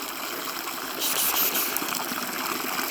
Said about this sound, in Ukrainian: ось водичку наляю